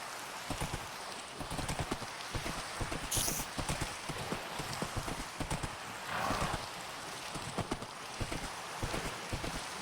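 Horse hooves clip-clopping in Minecraft, a steady run of soft rhythmic thuds repeating across the whole stretch over a faint hiss, with no talking.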